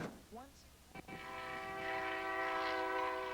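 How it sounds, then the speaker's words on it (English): A train in full emergency braking at a road crossing sounds its horn, a loud sustained multi-tone blast that swells and holds, preceded by a few brief chirps and knocks. "The train you're looking at now has been in full emergency brake since the moment it reached the crossing"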